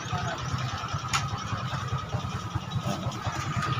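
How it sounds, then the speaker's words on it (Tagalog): A motorcycle engine in good running condition rumbles steadily nearby on a road trip in Albay, a low, even idle with faint talk around it. "Tunog pa lang ng motor ni Kuya, nasa kondisyon na"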